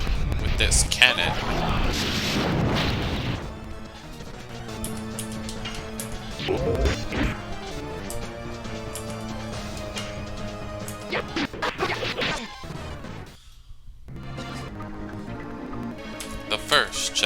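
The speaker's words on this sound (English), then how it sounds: "Let's tickle him again with this cannon." Cannon attack in the PlayStation RPG The Legend of Dragoon, with heavy crashing hits and thwacks bursting over game music, several loud impacts early on and later sharp strikes amid the battle effects.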